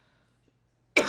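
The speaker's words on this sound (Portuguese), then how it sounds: "Deu um ataque de tosse aqui na velha." An older woman coughs once, a sudden harsh burst that starts abruptly after near silence and carries on to the end, close and fairly loud.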